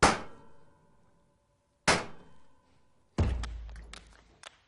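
Egg cracked and dropped into a bowl of wet ingredients for chocolate cupcake batter: two sharp taps on the bowl rim, then a dense burst of small clicks and cracking as the shell breaks, close and alone.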